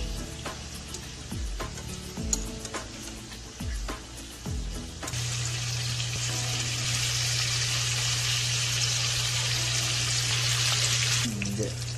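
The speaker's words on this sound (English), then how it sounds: "we're gonna cook the bacon. Let's cook them upside down" Bacon frying in a pan for hamburger sandwiches: a few sharp knocks and clinks, then a loud, steady sizzle that hisses continuously until near the end.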